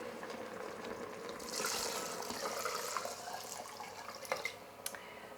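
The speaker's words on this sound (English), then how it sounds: "So now I'm gonna add the stock." Stock poured from an overfull jug into a soup pot of garlic, tomato and carrot soup, giving a close, steady splashing trickle of liquid that swells midway and ends with a few drips.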